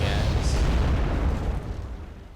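Bombs dropped from aircraft in the Wargame Airland Battle video game detonate in a loud, heavy blast that opens the moment and rumbles off, fading as the low boom decays.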